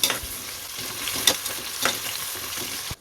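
Long-sliced onions are sautéed in a pot for mutton biryani, a close steady sizzle broken by a few scraping stirs, ending abruptly, no talk.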